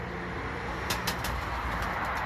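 Domestic pigeons coo close by in hot weather, giving soft, low, repeated coos that run continuously through the short stretch.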